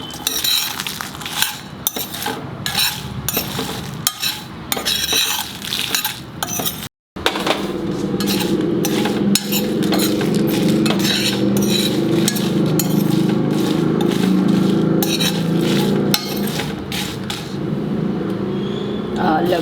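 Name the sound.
spices being dry-roasted and stirred in a pan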